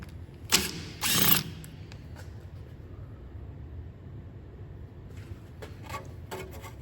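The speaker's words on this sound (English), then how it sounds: "undo the disc screw, and you just want a Torx 30 socket to get that off" Ratchet with a Torx 30 socket loosening the brake disc screw on an Audi A4 B8, two quick, loud clicking bursts close by, then quiet before a further series of lighter ratchet clicks.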